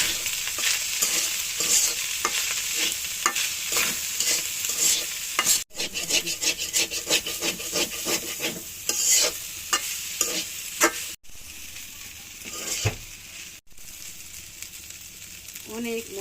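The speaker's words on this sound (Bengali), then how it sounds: "অনেক মজার একটা ভাত ভাজা।" Rice being stir-fried with salt, chili flakes and cumin in a small home kitchen: a quiet sizzle under repeated rhythmic scraping strokes of a spatula against the pan, close by, with brief pauses between bursts.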